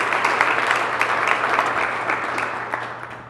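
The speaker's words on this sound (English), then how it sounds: "Let's give him a round of applause." An audience at a military chief's retirement ceremony gives sustained, even applause in a large room. The clapping is loud and steady at first, then tapers slightly toward the end, with no voices over it.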